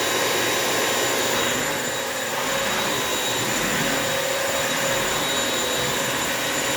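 A Bissell wet-dry vacuum cleaner runs while mopping the floor, a loud steady whine with a constant motor drone, close by and uninterrupted for the whole stretch, with no talking.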